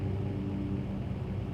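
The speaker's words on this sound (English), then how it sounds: "I think that the engine noise is a little loud" A single-engine aircraft drones at full power on the takeoff roll in a home cockpit flight simulator, a steady, loud, low rumble without a break.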